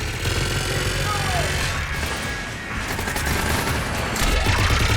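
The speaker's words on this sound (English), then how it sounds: "Just following the gunfire." Sustained gunfire from a Mass Effect 3 firefight, dense rapid bursts and crackling shots running continuously with heavy low-end rumble, loud and close throughout.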